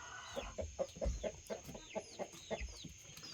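Backyard chickens, including half-grown birds, roost low near the ground and give soft, close, repeated clucks and short calls at a steady pace, with faint chirps from other birds behind.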